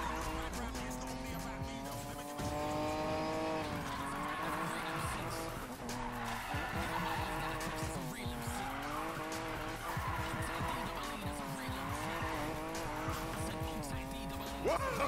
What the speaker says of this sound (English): This is what drifting is about!